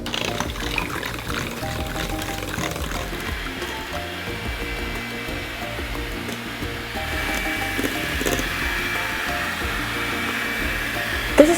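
Electric mixer whirring steadily through Kuih Bahulu egg batter, a continuous close motor drone with beaters churning and slapping the mix, no pauses and no talking.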